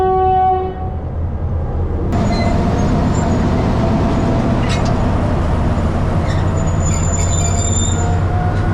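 A train on the Badulla to Colombo upcountry line in Sri Lanka pulls away from a station, loud and close, with a horn blast, then rumbling wagons and squealing wheels rising over the steady roar.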